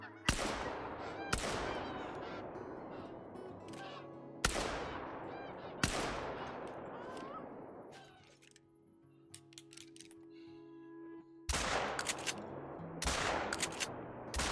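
Rifle shots ring out at Canada geese in the hunting game theHunter: Call of the Wild. Several sharp, loud reports arrive in clusters, each trailing off in a long echo, while goose honks rise faintly between the shots.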